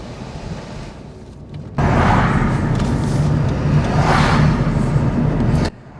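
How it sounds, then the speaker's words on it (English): A loud, steady rush of blowing air starts abruptly as a Vauxhall Corsa's ventilation fan runs on its highest setting, holds for a few seconds, then cuts off to a lower hum. "it's too hot in here to not have the fans on, but 4 is too loud."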